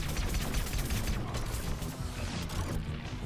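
Dense, continuous rapid gunfire from Plants vs. Zombies Garden Warfare 2, a loud unbroken clatter of shots layered with mechanical noise across the whole short burst.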